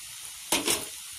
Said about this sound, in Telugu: ఒక సన్న సెగ మీదే ఒక 5 నిమిషాలు వేయించుకోవాలి